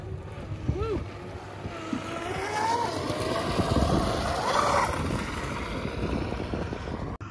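A Blackjack 42 powerboat runs at full throttle, its engine roar steady and loud for several seconds alongside rushing water and wind buffeting the microphone.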